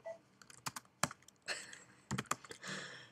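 Quick, quiet keystrokes on a computer keyboard as a short terminal command is typed, a burst of clicks with a short pause in the middle.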